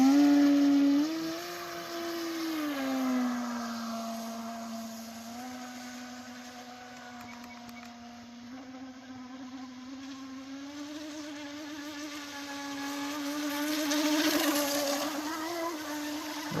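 A small MHZ 17-inch RC hydroplane boat with a poorly suited prop runs on the water, its high, buzzing electric whine rising and falling in pitch as it speeds away and returns, moderately distant.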